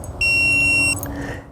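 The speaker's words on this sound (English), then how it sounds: "you're pressing that tone button" A single steady high-pitched electronic beep from a dog-training remote collar holds for under a second, then stops, over faint room noise.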